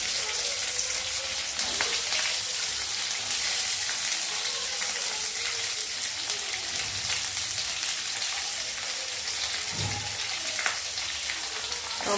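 Onions fry in a pan for egg masala, a constant loud sizzle and crackle heard up close with no talking over it.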